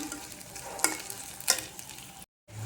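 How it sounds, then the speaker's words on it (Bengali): Shrimp stir-fried in a pan with onions and chillies, a soft sizzle punctuated by two sharp scraping clatters of stirring, then a brief silence. "চিংড়ি মাছ ভালো করে ভেজে নিতে হবে"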